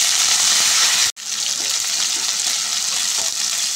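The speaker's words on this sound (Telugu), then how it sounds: "ముందుగా మెంతి కూర వేసుకొని ఫ్రై చేసుకుందాం." Fenugreek leaves frying in hot oil with mustard seeds, cumin and curry leaves for a carrot methi pulav: a loud, close, continuous hiss and sizzle, briefly broken once by a short silence before resuming.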